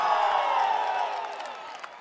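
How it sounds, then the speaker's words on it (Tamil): A crowd at a political rally in Kallakurichi cheers and whoops in a dense, steady roar that fades slightly toward the end. "ஆரவாரம் எழுச்சி."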